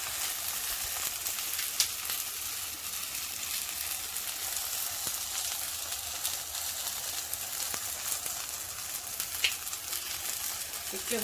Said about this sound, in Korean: 지글 지글 지글 지글 한번 뒤집어서 줄게요